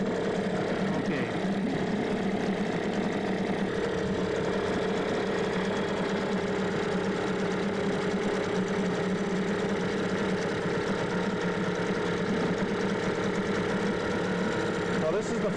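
An outboard boat motor idles steadily near a dock in cold weather, a constant low rumbling hum with a faint knocking texture, with people talking over it.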